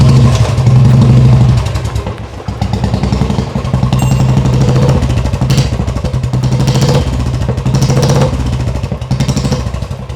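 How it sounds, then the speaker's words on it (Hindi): A Royal Enfield Bullet fitted with a Mini Punjab aftermarket exhaust thumps loudly and close, with a deep throaty beat. Repeated rising revs run throughout, and a steady rhythmic dug-dug pulse carries between them. "तो ये हो गई हमारी पंजाबी ढोल वाली आवाज। बिल्कुल, ये है हमारा मिनी पंजाब एग्जॉस्ट"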